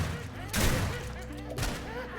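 A shotgun fires twice in a video game, two loud, close blasts about a second apart, each trailing into a rumbling decay over steady game background noise.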